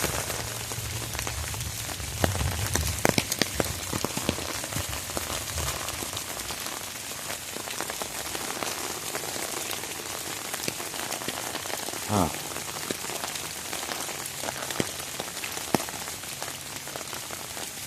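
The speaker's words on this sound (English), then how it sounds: "I know the rain hitting off the umbrella is probably pretty loud," Steady rain patters on an umbrella overhead, a dense close-up drumming with occasional heavier drops, and a brief murmured voice partway through.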